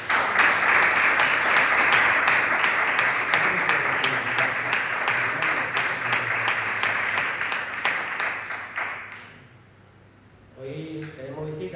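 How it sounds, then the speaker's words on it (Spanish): A church congregation claps loudly and steadily for several seconds, the applause thinning and fading away before a voice begins speaking near the end. "Dale un fuerte aplauso a Cristo."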